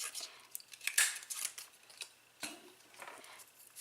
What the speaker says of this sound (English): Now I'm going to use my little piece of copper foil sheet and my 1/2 inch circle punch, and I'm going to punch out